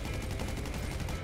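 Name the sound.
gunshots in video game GTA V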